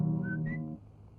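A person whistles a short tune from a 1984 Warkop DKI comedy film, two rising high notes over a hum of background sound that fades after under a second.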